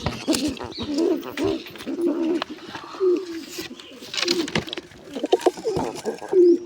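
Pigeons with chicks coo repeatedly in soft, rhythmic bursts close by, several calls overlapping with brief rustling between them.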